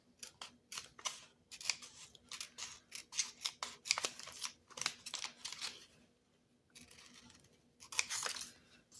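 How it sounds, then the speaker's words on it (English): Repeated crisp snips of scissors cutting through paper, close by, in quick bursts with a short pause before a final flurry of cuts. "but I think I'll just use my scissors."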